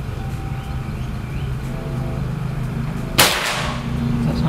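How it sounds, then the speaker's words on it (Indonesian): A PCP air rifle fires a single sharp shot toward a target 50 meters away, a sudden loud crack partway through with a brief decaying tail over a steady outdoor background hum. "Sekarang kita lanjut ke tembakan yang ketiga."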